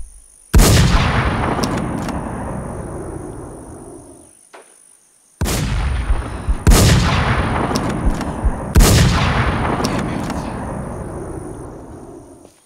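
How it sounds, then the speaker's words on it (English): Sniper rifle fire in a shooter video game: three loud, sharp shots spaced a couple of seconds apart, each trailing off in a long rolling echo. "Dude, I think that guy had a sniper rifle."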